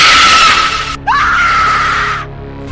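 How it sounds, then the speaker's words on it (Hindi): A boy screams loudly in a haunted house horror story, two long, piercing cries close to the listener with a brief gasp-like break between them, trailing off at the end. "मेरा बेटा जोर जोर से चिल्ला रहा था"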